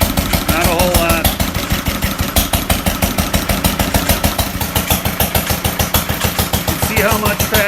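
An old stationary engine, an International Harvester LB or a Fairbanks Morse Z, idling with a steady rapid chugging rhythm, loud and close, while someone speaks briefly over it.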